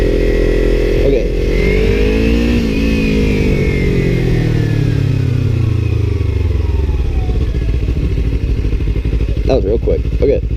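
Motorcycle slowing from about 20 mph with the throttle fully closed for engine braking; the loud, close engine note holds steady, then winds steadily down in pitch over several seconds.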